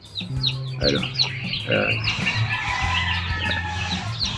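Chickens cluck and squawk busily nearby, several birds overlapping in an irregular stream of clucks, with steady hum in the background.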